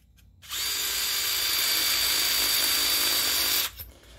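A power drill spins sandpaper against a metal file: a steady, close whirring grind of about three seconds that starts and stops abruptly, with no talk.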